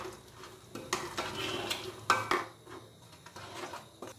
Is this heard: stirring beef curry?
yes